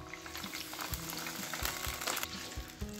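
Tomatoes frying in hot oil for chana chole, a dense continuous sizzle with occasional low knocks of a pan or utensil, steady and close.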